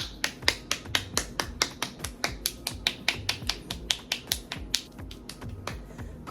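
Hands clapping in a steady, quick rhythm of sharp, close claps that continue evenly with no voices.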